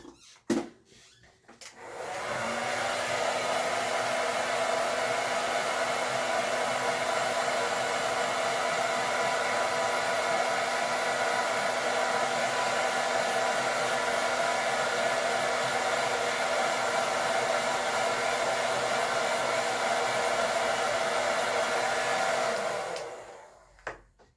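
A hair dryer runs steadily for about twenty seconds, close and loud, switching on and off at either end while drying a shoe.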